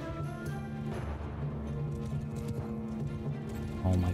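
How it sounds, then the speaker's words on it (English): Cavalry horses charging in Mount & Blade II: Bannerlord, a steady din of hoofbeats and clattering with faint battle noise, continuous and fairly loud throughout, with no talk. "Oh my god, we have so many horses."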